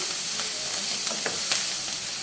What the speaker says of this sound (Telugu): కొంచెం వెల్లుల్లిపాయలు, వేగిపోయిందండి